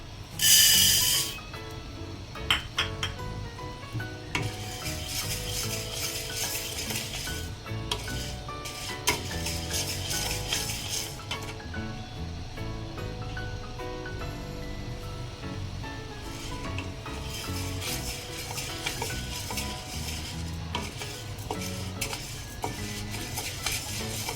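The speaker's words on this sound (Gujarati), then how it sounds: "હવે આ જ કઢાઈમાં આપણે ઘઉંને પણ આ જ રીતે શેકી કાઢવાના છે" Wheat grains being dry-roasted in a kadai and stirred with a spoon: steady rustling and scraping, with sharp metallic clinks of the utensil against the pan recurring in bursts across the clip, heard without talk.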